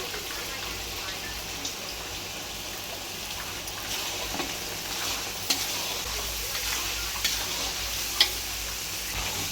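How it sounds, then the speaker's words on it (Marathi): Wet masala roasts in a pan with fried onion and tomato for a paneer curry. A dense, even sizzle carries on close-up for the whole stretch, with a few faint spoon scrapes and taps. "मसाला पूर्ण व्यवस्थित भाजून घ्यायचा"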